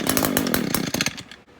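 An Echo two-stroke weedeater engine, just fitted with a carb kit, revs hard under throttle for a moment, then winds down and fades; loud and close with no talking.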